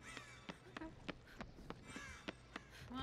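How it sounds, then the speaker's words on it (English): Crows caw after being disturbed in the horror video game Dead by Daylight, a quiet scattering of short, sharp calls repeating irregularly over low background game ambience, with no talking. "I'm trying to disturb crows."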